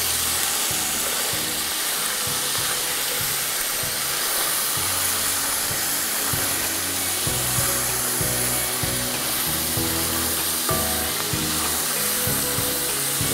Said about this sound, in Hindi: तो हम अच्छी तरह से फ्राई करेंगे 5 मिनट।